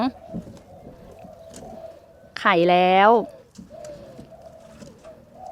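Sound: spotted dove cooing

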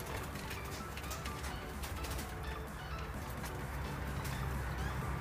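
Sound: pied diamond doves cooing in an aviary

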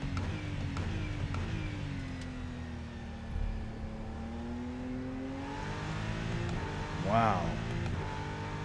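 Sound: BMW race car engine in Rennsport video game

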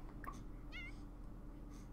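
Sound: cats meowing in a video game

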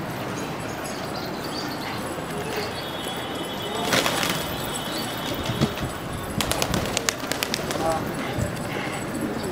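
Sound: pigeons in a loft

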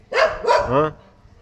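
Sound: dogs barking

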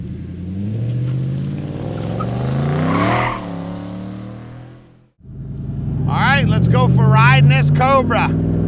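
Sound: Factory Five 1965 Shelby Cobra replica with Coyote engine

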